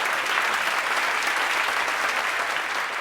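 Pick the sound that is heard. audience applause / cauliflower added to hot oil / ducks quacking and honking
audience applause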